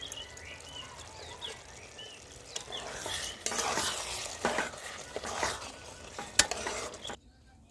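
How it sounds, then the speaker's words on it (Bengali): A spoon stirs mutter paneer curry in a pan as garam masala and coriander leaves are mixed in, giving a soft sizzle with scraping and clinking strokes, close and fairly quiet, then stopping abruptly near the end. "এবার আমি গরম মশলা ও ধনে পাতা দিয়ে লাগিয়ে নেব।"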